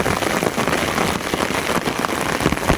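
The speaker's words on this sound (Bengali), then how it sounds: "বৃষ্টি শুরু হয়ে গেল আজকে" Rain pours onto an open farm field, a dense, even patter of drops close by that continues unbroken without any talking.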